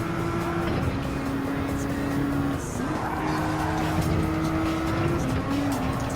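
A Gr.4 race car at Dragon Trail Seaside in Gran Turismo 7 holds a loud, steady engine drone for the whole stretch, its pitch stepping up and down as it shifts while accelerating.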